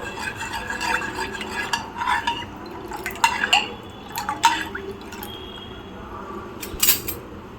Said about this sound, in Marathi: मीठ आहे ते थोडंसं विरघळून घ्यायचं.